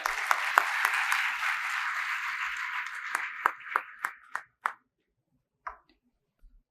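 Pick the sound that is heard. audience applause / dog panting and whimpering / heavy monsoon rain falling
audience applause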